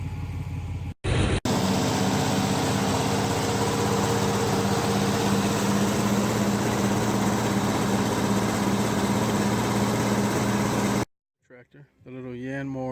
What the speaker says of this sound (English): Tractor, the little Yanmar YM240. He runs.